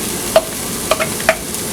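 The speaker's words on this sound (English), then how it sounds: "once the vegetables are, fried up or stir fried for a little bit" Vegetables stir-frying in a pan for a soup make a low steady sizzle, broken by three or four light clicks of a utensil stirring them up close.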